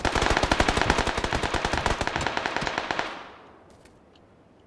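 A close, loud burst of rapid automatic gunfire from PUBG rattles for about three seconds, then cuts off and leaves a faint tail and a quiet pause. No one speaks.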